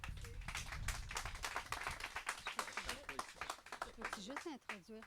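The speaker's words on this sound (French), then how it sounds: "On l'applaudit." An audience claps in a burst of close, rapid applause, with voices talking over and after the clapping as it thins out.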